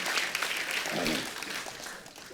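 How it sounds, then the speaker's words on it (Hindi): Audience applause on a comedy talk show stage greeting an arriving guest, a steady dense wash of clapping from a large crowd, fairly soft and continuous. "एक बार जोरदार तालियां हो जाएं।"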